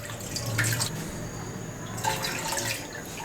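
Roughly one and a half glasses of water are poured into a pressure cooker while making Lahori chargha chicken, giving two short splashing bursts over a faint steady hiss.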